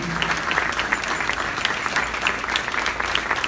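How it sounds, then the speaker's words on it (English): An audience at a Yemeni American association scholarship ceremony for high school graduates claps for an honoree, giving dense, steady applause with crisp individual claps standing out throughout. "Please give applause to Bethany Cluster."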